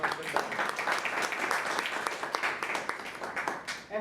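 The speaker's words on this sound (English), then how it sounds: "A huge round of applause for Toastmaster Tarun." An audience at a Toastmasters club meeting gives a dense burst of applause for the Toastmaster. Many hands clap steadily for about four seconds before the sound thins out at the end.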